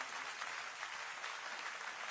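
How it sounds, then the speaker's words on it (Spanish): Congregation clapping steadily in church during a Sunday celebration service, a dense, even wash of applause at moderate distance with no voices standing out. "Le doy un aplauso al Señor fuerte en esta hermosa mañana"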